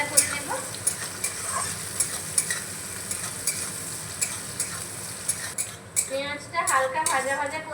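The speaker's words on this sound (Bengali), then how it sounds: "পেঁয়াজটাকেও হালকা ভাজা ভাজা করে নেব।" Chopped onion with garlic fries in a pan while a metal spatula stirs it, giving a steady sizzle broken by regular scraping strokes and clinks against the pan that grow busier toward the end.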